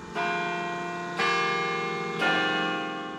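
A church bell at Carillon Park rings out in three loud, resonant strikes about a second apart, each one leaving a long, shimmering ring that overlaps the next.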